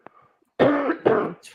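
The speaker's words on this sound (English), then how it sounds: "I cannot stop fucking coughing." Two harsh, close coughs from a man on a football live show, coming in quick succession after a faint throat noise, with a short exhale at the end.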